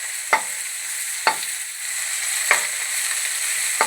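Shredded garlic sizzles steadily in hot oil in a pan for a Kerala sadya masala curry, a constant frying hiss broken by four sharp scraping stirs spaced roughly a second apart.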